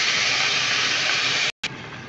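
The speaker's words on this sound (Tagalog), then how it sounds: "Kumukulo na." Steady loud hiss of soy sauce bubbling and sizzling in a hot pan for pancit bihon, broken by a brief moment of silence before the sizzle resumes, slightly quieter.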